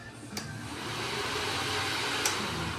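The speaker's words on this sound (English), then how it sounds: "I went ahead and I wired up the radiator fan" Radiator fan on a Polaris 425 ATV running steadily, a close, even whooshing hum with a couple of faint clicks and no speech.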